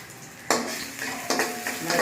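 Pumpkin bhaji fries in a pan, giving a continuous sizzle punctuated by three or four sharp metallic scrapes and knocks of a utensil against the pan, close by and unaccompanied by speech.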